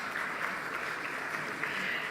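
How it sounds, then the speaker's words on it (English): Audience applause for the jury members at a banking awards ceremony, a soft, even patter of clapping heard from a distance and fairly faint throughout. "I think it's time for an applause for them"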